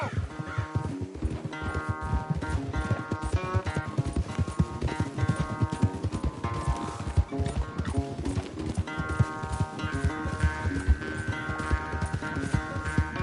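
A horse gallops hard during a race in Red Dead Redemption 2, its rapid, steady hoofbeats running throughout beneath a continuous layer of music.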